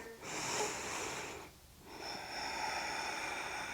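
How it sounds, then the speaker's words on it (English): A deep inhale during a yoga session, a close, breathy intake of air with a brief pause and a second breath following, no talking. "Take a nice deep inhale here."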